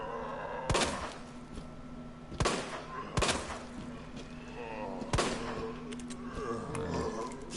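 Gunshots ring out in a survival horror game as a player shoots zombies, with four or five sharp, loud cracks spaced irregularly over a steady low background hum; no one talks over the shots.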